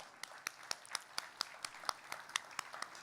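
Audience at a community felicitation ceremony clapping, a thin scattered applause of distinct individual claps at a steady pace, moderately faint and without talk.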